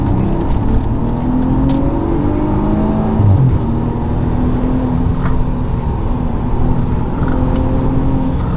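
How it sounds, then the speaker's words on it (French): A supercharged Maserati Ghibli engine revs and pulls steadily for several seconds, a loud continuous droning growl with gently rising and falling pitch, heard close from inside or beside the car, no speech. "Maserati est reconnu pour la mélodie de ses moteurs"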